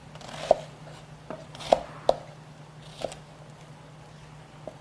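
A knife chops button mushrooms on a cutting board in a few sharp, separate strokes, with a low steady hum underneath and no talking.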